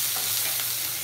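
Fresh tomatoes sizzle and crackle in a hot pan for a homemade goulash, a steady close frying hiss with soft stirring scrapes and no voices.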